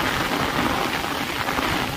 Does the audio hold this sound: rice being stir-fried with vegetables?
no